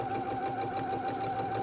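Sewing machine stitching a fabric face mask, its needle running in a steady, fast continuous whir close by, with no pauses for the whole stretch.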